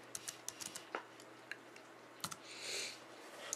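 Scattered key clicks and taps on a computer keyboard while entering code, irregular and fairly close, with a brief hiss near the end and no talking.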